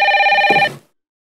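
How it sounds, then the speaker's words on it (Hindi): A telephone bell rings with a steady electronic trill, loud and close, then cuts off abruptly after less than a second, leaving silence. "अग्रवाल साहब का फोन आया, वो 2000 मांग रहे हैं अपने।"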